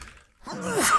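A single close sneeze, with a brief quiet intake of breath before a sharp, loud burst at the end.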